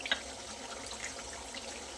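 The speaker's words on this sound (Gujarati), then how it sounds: "અડધા કપ જેટલું પાણી ઉમેરી" About half a cup of water is poured over peas and beans in a pressure cooker as a soft, steady trickle. It stays even throughout, with a faint clink at the start and no voices.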